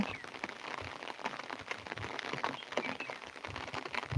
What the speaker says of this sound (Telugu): వర్షం అయితే తెగ పడిపోతుందండి